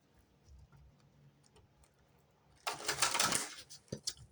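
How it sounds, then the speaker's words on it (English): A quiet stretch of faint ticking, then a sudden burst of tarot cards riffling and snapping together, followed by a few soft taps as the deck settles. "I'm going to do one more shuffle."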